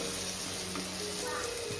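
Steady hiss of an onion-tomato masala tempering sizzling in a hot pan, a continuous dense frying crackle at moderate level, with a faint voice in the background.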